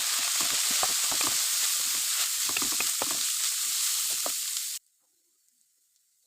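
Soaked red lentils (masoor dal) fry in a hot pan, giving a steady loud sizzle broken by scraping stirs for about five seconds before cutting abruptly to near silence.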